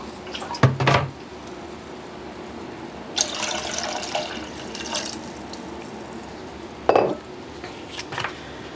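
White vinegar is poured into a pickle brine for a pickled garden salad: a short liquid pour stands out among a few sharp clinks of dishes and utensils in a quiet kitchen.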